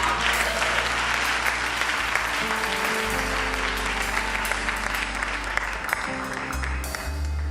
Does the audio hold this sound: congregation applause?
yes